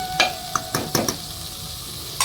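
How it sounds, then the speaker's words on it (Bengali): Spices frying in goat fat for ghugni, with a soft sizzle under a handful of sharp scrapes and taps as a spoon stirs against the pan, close and intermittent. "সেই চর্বিটা দিয়ে ভালো করে মশলাটাকে একত্রে ভালো করে আমি কষে নেব"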